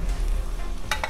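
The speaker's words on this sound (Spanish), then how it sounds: "Mientras se sofríen los vegetales" Vegetables sizzle as they fry in a pan for Turkish-style eggs, a steady close crackle with two brief louder scrapes near the end.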